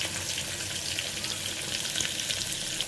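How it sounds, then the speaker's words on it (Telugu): Onion fries in a pan for a curry with a continuous close sizzle and crackle, steady and moderately loud, with no talking. "ఇలా ఆనియన్ వేగుతూ ఉన్నప్పుడు"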